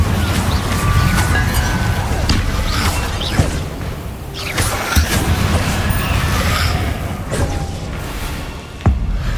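Spell impacts from Incendio fire casting in Hogwarts Legacy, a string of sharp booming bursts and crackling hits scattered across a loud, busy game soundscape, with one strong hit near the end.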